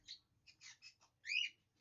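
Pet bird giving a short series of bright chirps and tweets indoors, a few quick calls then a louder final trill, close and fairly quiet, alone without talk.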